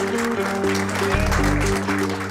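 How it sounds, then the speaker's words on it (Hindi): An audience at a school event before a dance competition gives continuous clapping that stays fairly loud throughout, with tonal music or electronic hum running beneath it. "मैं आप सब लोगों की तालियों का मतलब समझ गया हूं"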